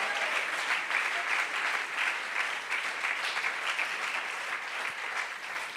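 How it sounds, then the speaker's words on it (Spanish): A church congregation claps together during a worship service, a steady, fairly faint wash of applause that continues evenly without voices standing out. "Aplaudan la presencia del Señor."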